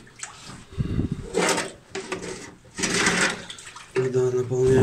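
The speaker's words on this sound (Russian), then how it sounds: "Вода наполняется быстро." A bucket fills with water drawn from a well, giving a rushing, splashing pour in uneven bursts that grows fuller toward the end, with people talking over it.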